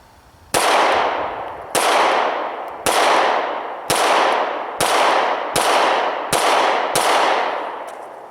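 Eight sharp, loud pistol shots from a Smith & Wesson M&P 9 Shield at an outdoor range, fired at an even pace about one per second, each with a long decaying echo.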